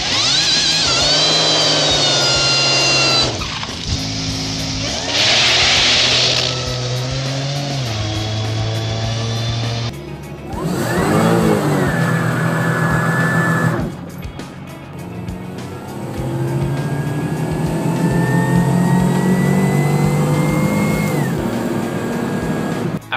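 A modified supercharged Buick Regal, boosted from 240 horsepower to roughly double, revs and accelerates loudly through several rising bursts with gear changes between them, close and alone.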